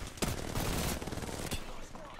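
Bursts of weapon fire in the Apex Legends battle royale game crack out in quick succession, loud and close, with a player's voice mixed in around the shots.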